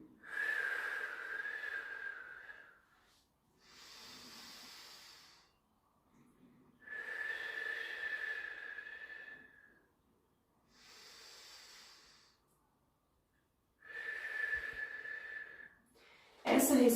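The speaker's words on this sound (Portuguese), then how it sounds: "Essa respiração chama respiração diafragmática." Slow diaphragmatic breathing during a pregnancy exercise session, alternating long hissing exhales and softer inhales in a steady rhythm, close and quiet, with no talk over it.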